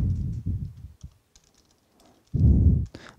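Typing on a computer keyboard, entering an SSH key during a software demo, comes as bursts of soft rapid clicks and taps, with a louder muffled thump-like stretch near the end.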